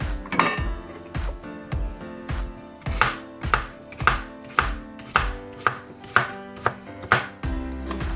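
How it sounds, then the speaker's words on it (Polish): A knife cuts peeled asparagus into small soup-sized pieces on a board, with steady, close, crisp chops falling roughly once or twice a second throughout. "Kroję takie kawałki jak do zupy."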